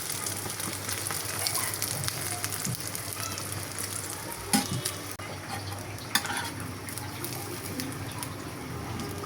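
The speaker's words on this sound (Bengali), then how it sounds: "শীতের সময় ধনিয়া পাতা দিয়ে ডিম ভাজি খেতে আমার ভালোই লাগে" Egg frying in a pan with coriander leaves, a continuous close sizzle and crackle of hot oil with occasional clinks, no voices.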